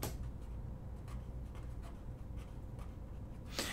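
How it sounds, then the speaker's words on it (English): Equations being written by hand, likely with a pen or marker, make faint, scratchy strokes in short irregular bursts against a quiet room. "So let me write down Faraday's law too."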